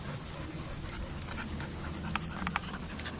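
A dog outdoors during off-lead recall training pants softly with faint whimpers, quiet and somewhat distant, with a few brief clicks or taps.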